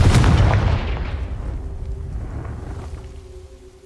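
A Confringo blast spell from a video game goes off as a loud, booming burst that rolls out into a long fading rumble, with no talk over it.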